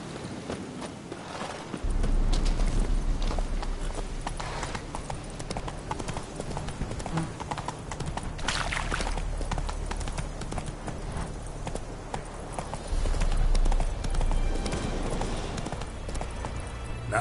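Horse hooves clip-clop steadily in a video game as the mount trots and walks, a continuous rhythmic patter of hoofbeats with a brief snort or whinny and background game ambience.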